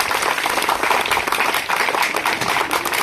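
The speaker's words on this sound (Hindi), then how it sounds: "तो आप लोग इनके लिए ताली बजाएंगे पहले।" Audience at a school Holi celebration breaks into steady, dense applause, many hands clapping together loudly and continuously throughout.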